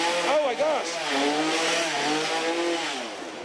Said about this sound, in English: I hear a chainsaw back there.